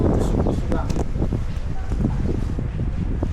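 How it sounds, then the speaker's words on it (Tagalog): Strong gusty wind buffeting outdoors, a constant roar with rumbling bursts, and a voice speaking faintly beneath it. "Mahangin sa labas."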